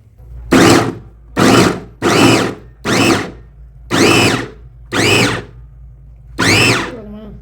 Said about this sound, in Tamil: நாங்கள் இப்போ மாயிஞ்சியை வந்து அரைக்க போகிறோம்.